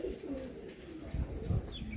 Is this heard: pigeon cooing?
yes